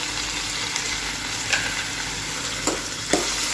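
Tomatoes sauté in a pan of oil for a dry fish gravy: a loud, continuous frying hiss with three brief stirring scrapes spaced through it, nearby and without voices.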